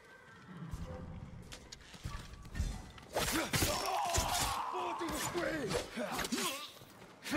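Samurai horses at a stable in the video game Ghost of Tsushima: hooves clip-clop, then horses neigh and whinny repeatedly, close and fairly loud, over a faint background.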